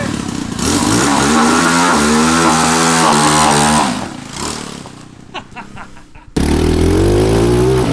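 A cheap 250cc five-speed engine mounted on a go kart runs loudly and close, its revs climbing and dropping through gear changes, then easing toward idle before it roars back up at full throttle.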